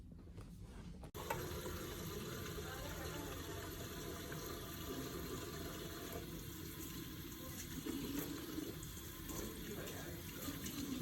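Hands are washed under a running tap at a sink, the water starting abruptly and then rushing in a steady close stream that continues to the end.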